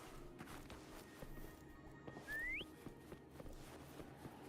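A single short, rising whistle in Wuthering Waves, clear but brief, over faint footsteps in a quiet scene.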